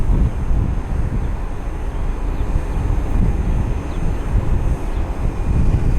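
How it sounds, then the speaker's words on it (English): An Air Canada Jazz CRJ 200 jet taxis to its gate on an airport ramp at night, a steady broadband rumble of engine and wind noise holding at constant loudness throughout. "Got our Air Canada Jazz CRJ 200 taxiing into its gate."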